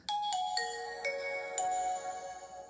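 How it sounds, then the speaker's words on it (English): A Nokia phone plays its startup jingle as it powers on without a SIM card: a short run of clear, bright chiming tones stepping down and ringing out, close and alone in a quiet room. "And it plays the jingle."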